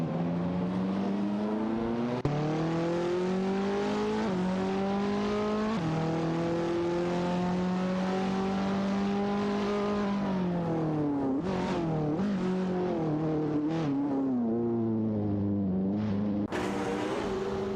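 Engines of a Porsche 911 991 Turbo S and a Mosler in a racing video game: a steady, loud engine drone whose pitch climbs through each gear and then drops at every shift, with several quick downshifts and revs near the end.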